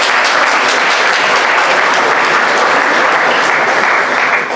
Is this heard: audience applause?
yes